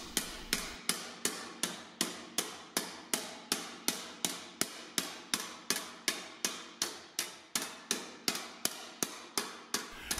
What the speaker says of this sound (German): Im ersten Schritt wird die hintere Kante an einem T-Amboss abgerundet.